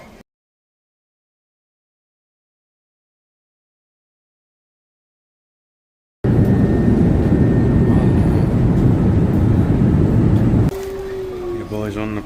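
Airplane cabin noise follows a long stretch of silence: a steady, loud engine roar and airflow hum fills the cabin, then drops to a softer drone with a tonal hum near the end.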